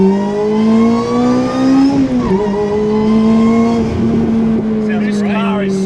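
A Lotus with a supercharger and new exhaust revs hard, a loud engine note rising and falling under a high supercharger whine, close by, with people talking over it.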